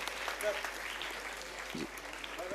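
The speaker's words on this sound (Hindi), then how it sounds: "जोरदार तालियां बजाइए बच्चों के लिए" Audience applause for children at a prize distribution for a storytelling competition, a soft, distant burst of clapping that runs for a couple of seconds and fades slightly.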